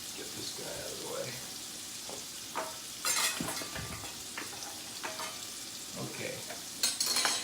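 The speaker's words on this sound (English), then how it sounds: "So while that's sauteing, I'm going to go ahead and make the Gremolata." Garlic sauteing in a hot pan on turned-up heat, a soft steady sizzle with scraping and stirring clatter, brief louder bursts near the end, and a short spoken word.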